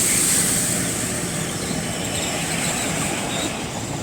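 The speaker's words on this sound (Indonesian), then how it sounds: "6131 KA 6131 jurusan Jakarta Kota dari Cikarang." Indonesian commuter train KA 6131, running from Cikarang to Jakarta Kota, rolling past close by with a loud continuous rumble of wheels on rails and a thin high squeal at the start.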